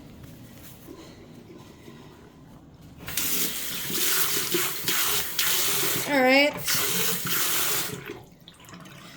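Cold water gushes from a tap into a sink, starting abruptly after a quiet moment and running steadily, with a brief whistling rise mid-flow and a short spoken word before it.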